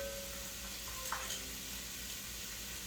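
Chopped garlic cloves are stirred into a hot soup pot and give off a faint, steady sizzle. A soft scrape of stirring sounds once near the middle, and nobody speaks.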